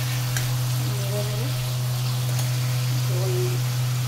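Mustard-poppy paste sizzling in a pan with green chillies for hilsa fish, a dense steady crackle over a strong constant low hum, close and even throughout.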